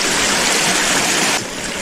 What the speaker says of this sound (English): It's filling up with hot water pretty quick.